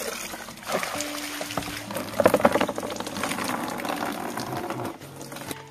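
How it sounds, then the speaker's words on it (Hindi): Water is poured and dumped out after washing wild sankap leaves in a village cooking setting, uneven splashing and trickling that rises, then runs on and tapers off. "पानी फेंक दीजिए।"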